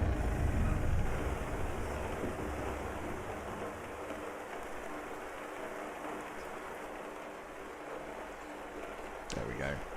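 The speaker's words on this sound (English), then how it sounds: "we got a little bit of rain" Rain falling in Euro Truck Simulator 2 as a steady hiss of drops with a low engine rumble early on, a faint high tone and a brief clatter near the end.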